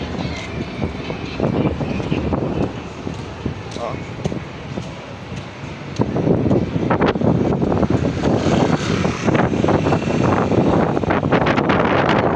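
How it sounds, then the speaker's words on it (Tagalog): Strong wind roars and buffets the microphone, growing louder halfway through, while a person talks underneath the gusts. "Super hangin. Masarap yung hangin"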